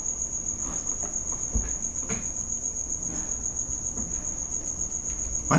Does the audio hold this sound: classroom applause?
no